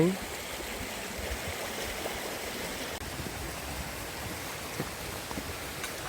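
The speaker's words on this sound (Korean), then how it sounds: "계곡의 물은 이렇게 쫙 흘러가고 있습니다" Water in a mountain valley stream rushes past in a steady broadband flow, near and constant, with a faint voice under it.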